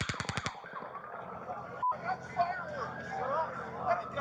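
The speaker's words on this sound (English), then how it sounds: "There's gunshots right here." Gunfire at a Las Vegas concert: a rapid burst of about half a dozen sharp shots in quick succession opens, then fades into a noisy, echoing background of distant commotion and voices.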